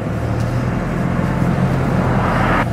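Night driving through Paris traffic: a steady close rumble of the car's engine and road noise fills the whole stretch, with the wash of surrounding traffic, no talk.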